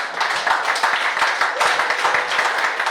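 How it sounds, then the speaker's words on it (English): A crowd at a student improv showcase claps steadily for performers leaving the stage, a dense, sustained round of applause with scattered louder claps. "round of applause for them as they head off the stage"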